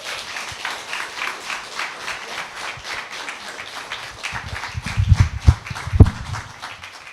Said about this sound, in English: a round of applause for your wonderful compere